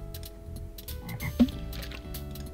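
A frog croaks once, a short, close croak in the point-and-click adventure game Legend of Kyrandia 2, over a steady bed of game music.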